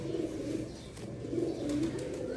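Pigeons of the school breed pair coo softly in a low, rolling rhythm, faint and close, with repeated throaty calls and no talk over them.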